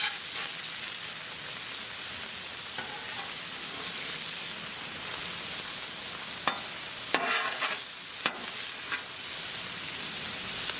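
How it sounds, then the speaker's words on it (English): Chicken sausages and peppers sizzle steadily on a Blackstone griddle, a constant close hiss of frying with a few sharper scrapes and clicks of a spatula flipping the food, no talking. "We're going to sit there and flip our sausages all over again."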